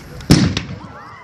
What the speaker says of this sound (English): That's the first bomb that's in the factory.